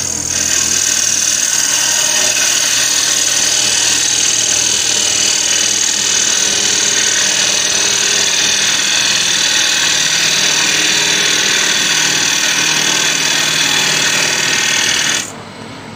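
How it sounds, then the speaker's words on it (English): Wood lathe with a freshly sharpened gouge taking finishing cuts on a turned candle holder for a jar, a steady whirring, buzzing drone held at a constant level and close up, stopping abruptly near the end. "Now I'll start those finishing cuts."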